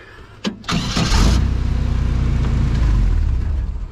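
An 8-foot-wide rock crawler's engine cranks briefly on the key after a couple of clicks, catches and settles into a loud, steady rumbling idle close by.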